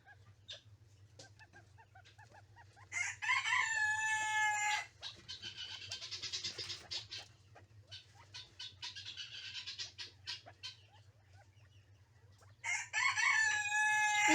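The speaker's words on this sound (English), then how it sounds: "Yeah, except for the rooster in the background." A rooster crows twice on a homestead near a chicken coop, each loud cock-a-doodle-doo standing out clearly above a steady low hum, with quieter clucking and bird calls between the two crows.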